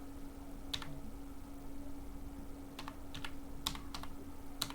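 Quiet, sparse keystrokes on a computer keyboard while entering text in Photoshop: a single tap, then short clusters of two or three clicks spread unevenly over a low, steady background hum.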